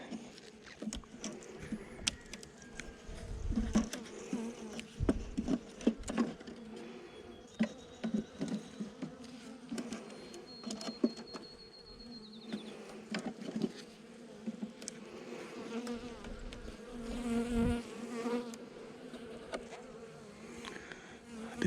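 Honeybees buzz steadily at an open hive during an inspection, a continuous hum with bees passing close by, mixed with scattered clicks and knocks from the frames.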